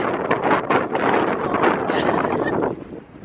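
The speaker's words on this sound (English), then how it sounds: "we had to stand at the top in this biting wind" Biting wind at the top of Pen y Fan in the Brecon Beacons buffets the microphone in loud, gusty rumbles and flutters that drop away near the end.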